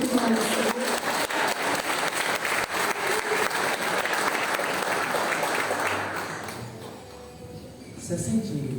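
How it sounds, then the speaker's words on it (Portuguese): Congregation applauding during a Wednesday service at a Baptist church, loud sustained clapping that fills most of the clip before thinning out, with a voice returning near the end. "Aplaudo o nome do Senhor."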